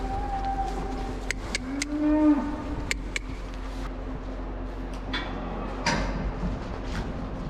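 Cows moo several times, low drawn-out calls over a steady barn hum, with occasional clanks and creaks in between, as they are moved off straw packs onto a manure alley.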